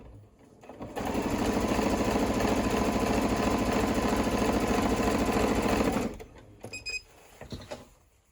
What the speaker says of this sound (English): I do love my sewing machine